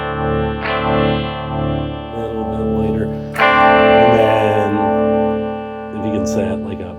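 An electric guitar runs through an EarthQuaker Devices Aurelius pedal in rotary mode, playing sustained, swirling chords with a chorus-like wobble and a louder strum midway. Speech is flagged nearby.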